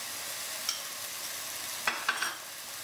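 Pork stew being sautéed in a pan with garam masala for a Goan recipe, giving a soft, steady sizzle with a few brief stirring scrapes near the end, fairly quiet and close.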